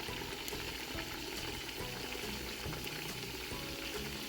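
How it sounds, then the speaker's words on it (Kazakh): Meat with half the onions frying in oil for Tashkent-style Uzbek plov gives a steady, even hiss and crackle throughout, close up with no voices. "Енді жаңағы пиязымыздың жартысын салып, мұны да қуырып аламыз."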